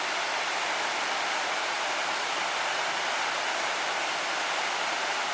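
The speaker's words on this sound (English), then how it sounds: "Right there is the bottom of the falls coming into the main creek." Lower Camp Cascades Falls pouring into the main creek after a rainy weekend, a steady, dense rush of falling water that holds unbroken and fairly close throughout, with no voices.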